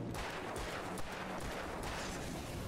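Gunfire in Alan Wake Remastered, a steady dense stream of shots and bursts filling the whole stretch at low volume with no clear gaps, like rapid firing against enemies.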